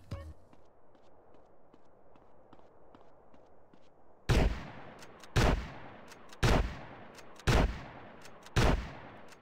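Shotgun blasts in GTA San Andreas during a gang war, five loud evenly spaced booming shots following a quieter stretch of running footsteps and game ambience.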